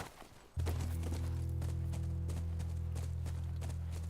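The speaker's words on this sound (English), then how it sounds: "That's our horse." Horse hooves clip-clopping in The Last of Us, a steady run of close hoof thuds that starts abruptly and continues over a low sustained background drone.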